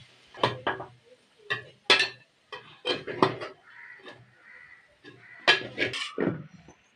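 Freshly made soybean fry scooped with a spoon into a metal dish: a close run of clattering scrapes and metallic clinks in irregular bursts, with short pauses between scoops.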